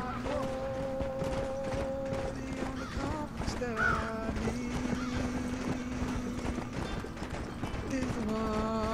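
Horse hooves clip-clop at a run in the Red Dead Redemption video game, with a whinny partway through, set over a steady musical score and game ambience.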